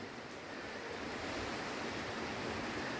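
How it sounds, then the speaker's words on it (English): Heavy rain pouring during a sun shower while on an electric sailboat cruising the 1000 Islands, a dense, even hiss of rainfall, loud and constant, with no speech. "It's pouring rain and sunny."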